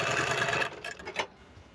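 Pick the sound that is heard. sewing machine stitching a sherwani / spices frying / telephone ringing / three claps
sewing machine stitching a sherwani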